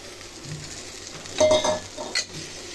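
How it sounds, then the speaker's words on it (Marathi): Fried capsicum, cauliflower, peas and potato tipped into hot oil for a kurma bhaji, giving a soft sizzle with a sharper burst of frying and stirring midway and a brief clink near the end. "आता आपण या तेलामध्ये फ्राय केलेल्या भाज्या टाकूया।"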